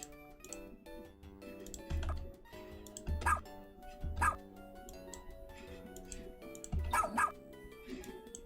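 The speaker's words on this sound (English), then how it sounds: "I want to fade out Ochi's bark a little bit" Several sharp dog barks come through in an uneven pattern, each a short loud burst, over a busy background of music and clicking, as the recording is edited for a Minecraft mod.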